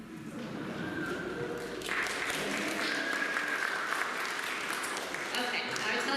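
An audience applauds at a Mother's Day talk, moderate steady clapping that swells after a couple of seconds and carries on evenly to the end.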